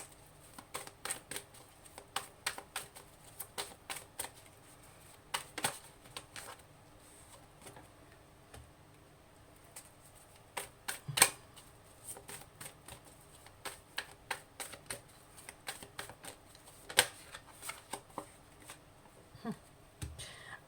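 Tarot cards handled and laid out on a table, a quiet run of soft, irregular card flicks, taps and shuffling snaps spread across the whole stretch, with no talking.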